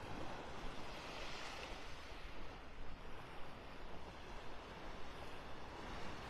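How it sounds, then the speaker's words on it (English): Ocean surf washing onto a mile-long beach in North Naples, Florida on an overcast morning, a steady broad roar of waves with some wind rumble, continuous and fairly even. "this is the mile-long beach at Del Norwegians Pass on an overcast Wednesday morning"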